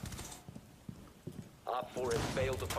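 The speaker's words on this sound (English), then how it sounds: "Are the idiots shooting at each other?" Gunfire in the video game Rainbow Six Siege, a few short sharp shots and mechanical clacks early on, fairly faint, followed by a player speaking over the game sounds.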